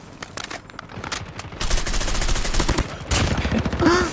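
Rapid bursts of automatic gunfire crackle loud and close in a shooter video game, with overlapping volleys building into a sustained fusillade over a few seconds.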